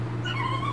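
A rescued, abandoned dog gives a short, thin whimper with a rising and falling whine, close and fairly soft, with no talk.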